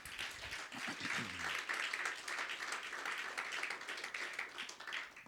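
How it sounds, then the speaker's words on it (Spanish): A church congregation applauds together in a steady, full wash of clapping that fills the space, with a brief voice heard faintly at the very start. "Un aplauso al Señor."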